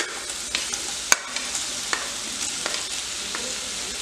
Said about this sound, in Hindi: इसमें अब हम आलू डाल लेंगे थोड़े से।